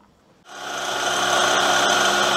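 A small engine starts up and revs to about 4000 RPM, rising quickly from near silence into a steady, close, loud whining drone that holds to the end.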